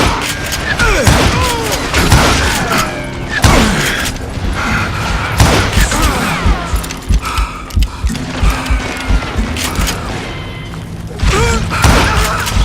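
Gunfire in the video game Call of Juarez Gunslinger, loud repeated shots and booming impacts in an irregular volley, with mechanical clicks and thuds of reloading and action amid game noise.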